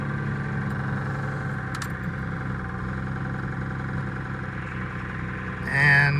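A car engine idling with its power steering and AC belts removed, a steady rough mechanical drone running without a break throughout, close by, with a brief louder rise at the end.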